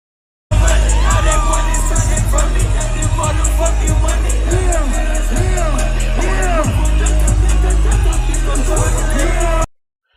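Concert fans cheer wildly in a dense, loud, continuous roar of shouts and screams from a packed crowd, lasting about nine seconds before cutting off abruptly.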